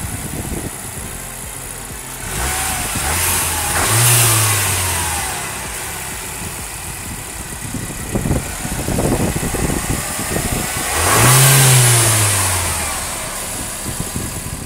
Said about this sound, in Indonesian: Oke, kita nyalain dulu. Ini yang penting ada di kabin mobil karena sudah start stop button, foot on the brake, dan kita dengar suara mesinnya.